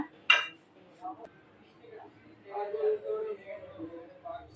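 A utensil gives one sharp metallic clink against a kadai while fried pitha are lifted out of the oil, followed by softer knocks and a voice speaking quietly nearby.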